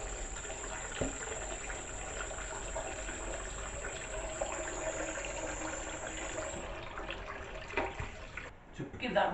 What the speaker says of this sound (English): We need to whip this off, get it under some cold water.